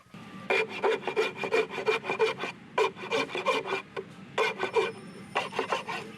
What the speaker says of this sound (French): Guy Hondo finalise ici les dernières retouches d'un siège avant vernissage et livraison de sa commande